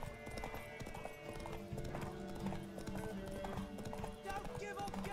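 A horse trots in The Witcher 3, its hooves clip-clopping in a quick, steady rhythm close by with a possible faint whinny, all under continuous talk and game music.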